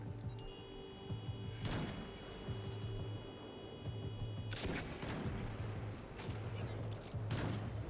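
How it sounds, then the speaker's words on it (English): Sniper rifle fire in the video game Destiny 2, played in co-op on PS5: a few loud, sharp broadband cracks spaced several seconds apart, over a steady game soundtrack with a pulsing low drone and voices talking. "sniper rifles in this game is very satisfying"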